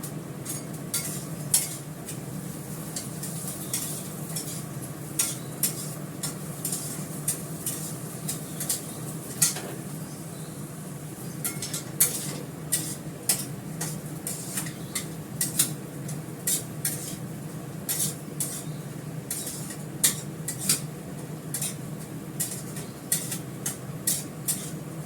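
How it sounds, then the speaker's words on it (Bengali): Lentils fry with cumin in a pan, a soft continuous sizzle broken by frequent sharp scrapes and clinks of a spoon stirring against the metal, close and steady throughout. "ডালটা লাল করে ভাজা হয়ে গেছে"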